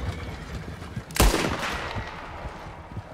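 A single sharp gunshot cracks in a Wild West video game, a loud close blast with a brief rumbling tail, set against low background game noise.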